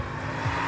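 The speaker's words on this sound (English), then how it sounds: "That sounds like a V8. 1UZ turbo under the hood of that." A drift car fitted with a turbocharged 1UZ V8 at a drift league event gives a brief, steady engine roar with no talk.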